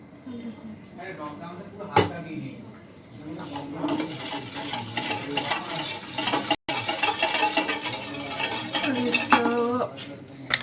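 Dalgona coffee mix of instant coffee, sugar and hot water whisked in a cup, giving close, busy clinking and scraping strokes with a steady rhythm, under intermittent talk.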